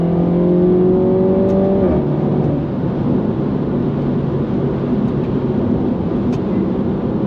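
Mini Cooper S (F56) accelerating hard on kick down in paddle mode, a loud engine note that climbs in pitch and then drops at a gear change into a sustained roaring, rumbling pull with road noise.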